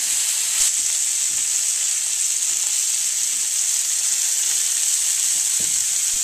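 A steak sizzles and fries in a pan just after being flipped, a loud steady hiss of cooking fat with a few faint clinks and no talking.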